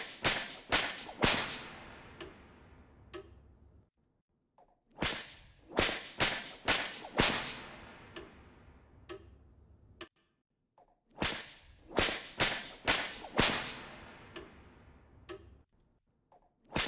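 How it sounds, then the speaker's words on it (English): Whip crack sound effects layered in a commercial sound mix, heard as three bursts of sharp, rapid snaps, each a quick cluster of loud cracks followed by a short decaying tail and a pause, with no voices. "I want those whips to be louder now,"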